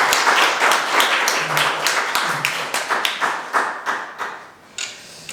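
A conference audience at a Korean governance event applauds a foundation chair, a dense wash of hand claps that thins into scattered, separate claps toward the end, with no talking over it.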